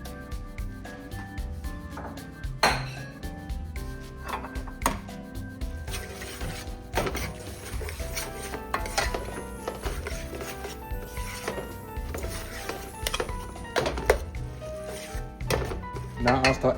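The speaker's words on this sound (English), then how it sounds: "We're going to stir it as much as we can." Wild rice being stirred in a pot, with repeated scraping and clinking of a utensil against the pot in an uneven rhythm and a faint sizzle underneath.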